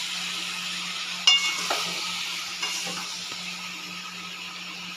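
Mango cooking with jaggery in a wok gives a soft, steady sizzle and hiss with a steam-like wash, a sharp clank of a spatula early on, and a few light scrapes as it is stirred.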